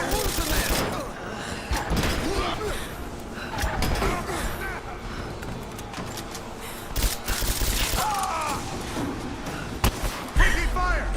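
Gunfire from the video game Rise of the Tomb Raider, dense bursts of shots and impacts mixed with battle noise and thuds, loud and continuous, with a voice speaking over it.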